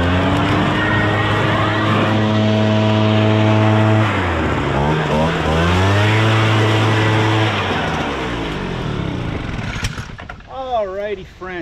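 A Wild Badger 53cc gas backpack leaf blower runs loud and close, its two-stroke engine droning, then dipping and climbing in pitch as the throttle changes. A voice is heard briefly near the end.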